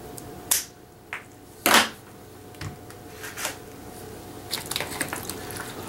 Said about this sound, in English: Opening my Gorilla Glue.